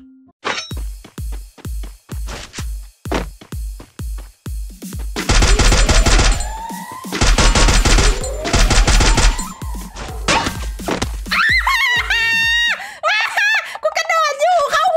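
Rapid gunfire rings out as players shoot at each other in the battle-royale game Free Fire, with bursts of repeated shots and dense volleys under excited commentary, ending in a tonal, warbling game effect.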